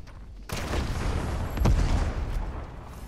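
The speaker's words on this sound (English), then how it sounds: "Grenades!" Grenades explode in Fortnite, a deep booming blast hitting after a short quiet start, with a second heavier boom near the middle and rumbling gunfire-like crackle filling the rest.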